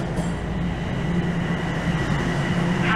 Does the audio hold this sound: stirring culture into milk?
no